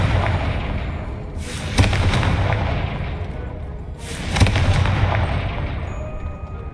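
Confringo fire-blast spell going off in the video game Hogwarts Legacy, two loud booming explosive bursts a few seconds apart, each followed by a rumbling roar that trails away.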